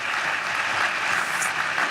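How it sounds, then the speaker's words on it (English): Audience applause at a State of the City address fills the whole span with dense, steady clapping at constant loudness, with no voices cutting through. "give them a round of applause as well"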